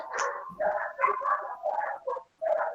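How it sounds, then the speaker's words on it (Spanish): Neighbour's dogs barking repeatedly at close range, a string of loud yaps and whiny barks in quick bursts with short pauses between them. "hay unos perros de mi vecina que no me dejan escuchar"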